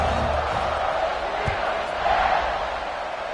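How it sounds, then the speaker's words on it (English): A stadium crowd in a football video game buzzes as a steady, dense roar of many voices, with no distinct cheers or breaks. "this crowd is buzzing after that last score"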